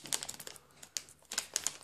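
Crisp plastic crinkling and tearing in quick irregular bursts, close by, with short pauses between rustles.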